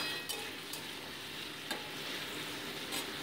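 Whole garam masala and potato pieces frying in a pan give a steady, moderate sizzle with a few light stirring clicks and scrapes spread through the short stretch, heard alone without any voices.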